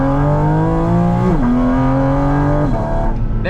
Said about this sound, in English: There is so much more intake noise than almost any other Porsche